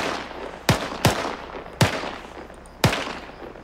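Machine gun fire in the military video game Arma 3: four separate loud, sharp reports, each leaving a short echoing tail, spaced unevenly over a few seconds against quiet background ambience.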